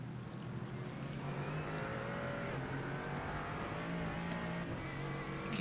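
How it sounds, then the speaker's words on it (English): A GT4 race car's tyres spinning as it rides up on the curb exiting a hairpin, heard as a steady engine drone with a rising whine, fairly faint and distant. "Hear the tyres spinning as Owen got up on the curb there on the exit of the hairpin."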